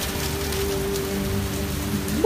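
Heavy rain falls steadily outdoors, a constant close wash of hissing patter that stays even throughout, with no voices over it.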